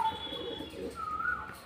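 Restless pigeons in a home loft give soft, faint coos and brief calls against a quiet background.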